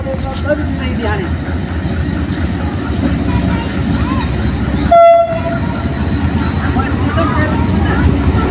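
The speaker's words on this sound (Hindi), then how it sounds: "214 डाउन मोहनजोदड़ो एक्सप्रेस तकरीबन 3 घंटे लेट अप्रोच बना रही है भान सैदाबाद" Mohenjodaro Express train approaching Bhan Sayadabad railway station, a steady loud rumble of rolling wagons running throughout, with a brief horn blast partway through and a voice talking over it.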